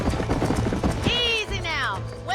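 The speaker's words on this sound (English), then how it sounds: "These are fine horses." Horses clip-clop at a trot in the Western video game Red Dead Redemption, steady hoof beats running under talk, with a neigh or whinny rising partway through.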